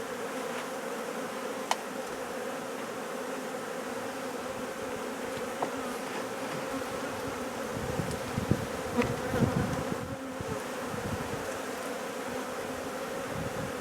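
A dense, continuous hum of many honey bees buzzing close by around a hive, steady throughout with occasional individual insects passing louder near the microphone.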